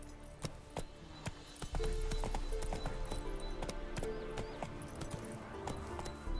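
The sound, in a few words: horse galloping in a video game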